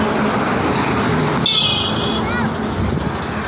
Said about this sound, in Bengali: এই যে বাস আসছে, বাস